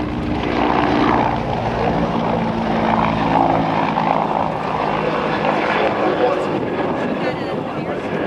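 A CH-146 Griffon helicopter at an air show accelerates through a high-speed pass, its rotor and engine roar loud and steady throughout, while an announcer talks over it.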